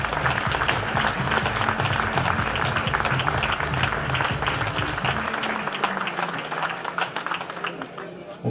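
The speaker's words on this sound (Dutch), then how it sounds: "We gaan hem zo dadelijk verwelkomen met een geweldig applaus" Crowd applause at a ZLM Tour 2015 cycling event welcomes a rider, steady clapping throughout with an announcer's voice over it and a low music bed that drops out near the end.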